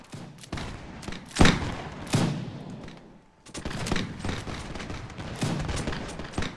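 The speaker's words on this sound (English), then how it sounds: "The cannons are doing alright" Cannon fire during a rainy night battle in Mount&Blade, a series of sharp booming reports at irregular intervals, some close and loud, others softer, with a brief lull midway and no voices.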